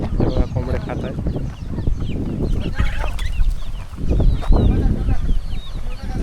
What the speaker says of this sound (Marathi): आपण टाकलेलं तांदूळ तेव्हा कोंबडे खात आहेत.